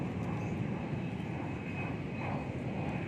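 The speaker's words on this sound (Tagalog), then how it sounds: "Aeroplano. Ayun. Airplane." A fixed-wing airplane flying overhead, a steady distant engine drone filling the whole stretch, faint and unbroken, with no voices.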